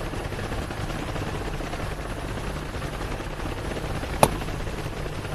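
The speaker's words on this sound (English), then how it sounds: "Yeah, MI-24 is coming in." Helicopter rotor noise rumbles as an Mi-24 attack helicopter approaches in the flight combat simulator DCS, a steady low drone with one sharp crack near the end.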